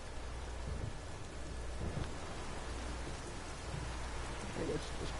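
Heavy rain pours steadily through a thunderstorm in The Witcher 3 video game, with low rumbling thunder rolling underneath the dense downpour throughout.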